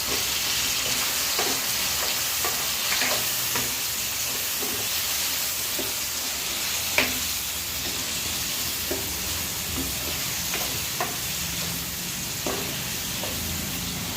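Potatoes cooking in a pan for aloo kurma give off a continuous close sizzle and hiss, with scattered clicks and light stirring taps throughout, no voices.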